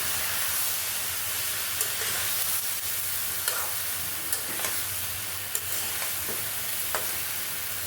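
Yardlong beans and spices fry in a pan with a steady bright sizzle and hiss, and a spatula stirs them now and then with light scrapes and taps.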